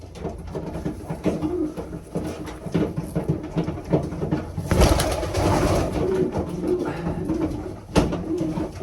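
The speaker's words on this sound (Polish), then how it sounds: "To wszystko gołębie rozpłodowe." Breeding tiger pigeons, several young males among them, coo in their loft, giving soft repeated rolling calls close by, with a few sharp bumps and a brief flurry of wing noise midway.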